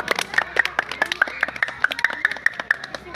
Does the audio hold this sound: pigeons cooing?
no